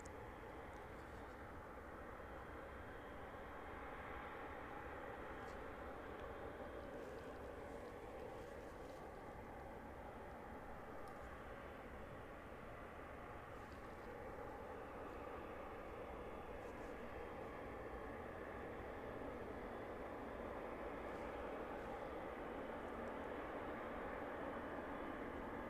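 A jet taxiing at East Midlands Airport during evening runway activity, a steady broad engine roar and whine held at moderate distance for the whole stretch, with no talking over it.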